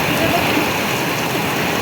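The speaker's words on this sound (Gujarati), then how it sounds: "કેટલો અતિ ભારે વરસાદ પડી રહ્યો છે તમે જોઈ શકો છો" Very heavy rain pours down during a thunderstorm in a village in Botad district, Gujarat, making a dense, loud and steady hiss throughout, with a voice speaking over it.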